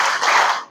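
Short burst of hand clapping during an in-person parenting session in Bogor, a brief flurry of claps that fades out within a second.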